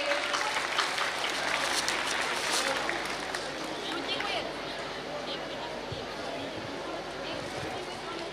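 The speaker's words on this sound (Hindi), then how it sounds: "एक बार जोरदार तालियां हो जाएं इन दोनों बालिकाओं के लिए" An audience applauds two schoolgirls at a school awards ceremony, with steady, loud crowd clapping throughout that eases slightly in the second half.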